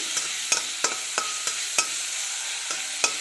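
A medium tomato frying in a pan for a Kerala broccoli curry, with a soft continuous sizzle punctuated by regular sharp spoon scrapes and knocks against the pan, roughly one or two per second.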